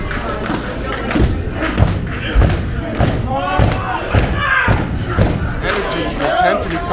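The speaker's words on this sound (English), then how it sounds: "Intensity coming from the crowd." A crowd at a live professional wrestling event roars steadily throughout, with repeated heavy thuds and slams from the ring and voices shouting over the din.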